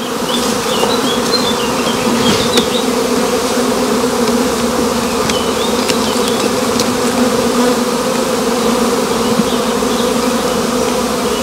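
Dense, steady buzzing of many honeybees while overwintered swarms are transferred into new hives, a continuous close hum with no voices.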